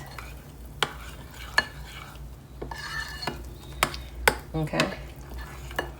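A herring fritter marinade is stirred and mixed in a bowl, with sharp utensil clicks against the side at irregular intervals over a quiet background and a brief spoken word.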